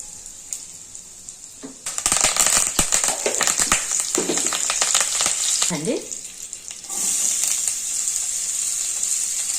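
Mustard seeds, cumin and asafoetida hit hot oil for a mixed vegetable curry, bursting into a loud, dense crackling sizzle that eases briefly, then settles into a steady hiss, with no voices.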